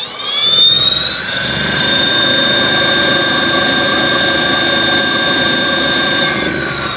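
An electric motor spins up to about 140 and holds a loud, steady high-pitched whine with a tonal hum for roughly six seconds, then begins to ease off at the end, with no talking.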